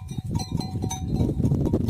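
Sheep bleat steadily on a farm during lambing, with several overlapping cries close by that fill the whole short stretch and no talking.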